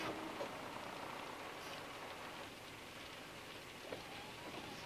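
Steady rain patters on a surface in a constant soft hiss, fairly faint, with no voices.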